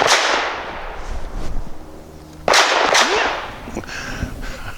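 Archon Type B pistol shots crack loudly at a range, two sharp reports a couple of seconds apart with strong echoing tails, followed by fainter metallic handling noises.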